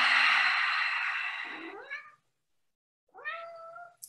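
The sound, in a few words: pet cat meowing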